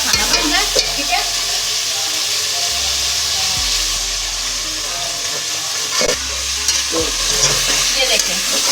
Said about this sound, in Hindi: अब ये थोड़ा सा हमारा लहसुन ब्राउन हो जाएगा